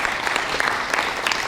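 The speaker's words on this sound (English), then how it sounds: "A round of applause for them," An audience gives a round of applause at a live event, steady dense clapping from many hands at close range, loud and even throughout with no break.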